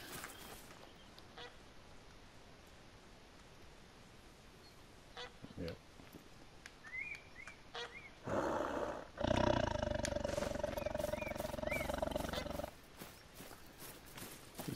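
A tiger roars loudly and close in tall grass, a rough, sustained burst lasting a few seconds after quieter rustling and scattered faint noises.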